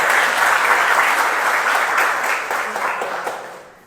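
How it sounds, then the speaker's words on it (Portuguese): A church congregation applauds during a thanksgiving service, loud dense clapping from many people that holds strong and then tapers off toward the end. "Vamos aplaudir ao Senhor pelo casal."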